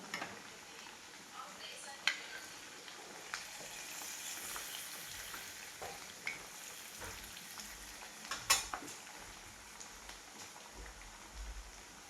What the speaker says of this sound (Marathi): आता गाळून घेते ह्याच्यामध्ये टाकते खिरीमध्ये